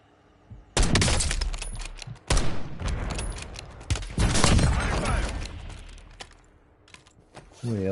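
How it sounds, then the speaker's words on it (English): Bursts of automatic gunfire in a Call of Duty match, loud and close, with rapid crackling volleys broken by short pauses and a few sharp single shots. "Somebody else is shooting at me."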